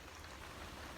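Steady rain falls outdoors, a dense, continuous hiss of drops pattering on surfaces for the full second, moderately faint and even with no voices.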